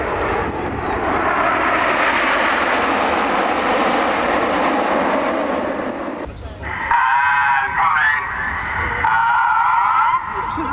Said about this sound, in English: Now, ladies and gentlemen, this is Spitfire.